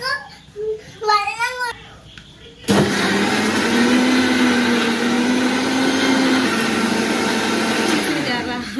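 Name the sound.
mixer grinder blending ingredients into a gel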